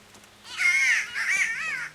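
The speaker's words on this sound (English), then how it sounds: "just that irritating bird" Crow cawing in the video game Kingdom Come: Deliverance, two harsh, drawn-out caws in quick succession, fairly close and clear over a quiet background.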